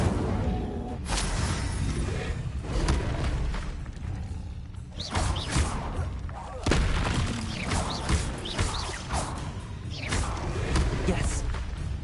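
Spells cast in combat in the video game Hogwarts Legacy, including a fire spell: a steady stream of booms, thuds and whooshing bursts with several sharp impacts, under a dense, busy game mix at moderate loudness.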